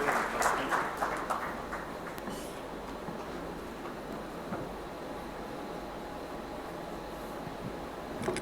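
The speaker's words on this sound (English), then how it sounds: "Please give them a big round of applause" Applause from an audience at a global investors meet in Karnataka, a burst of clapping at the start that settles into a steady, broad wash of clapping and room noise.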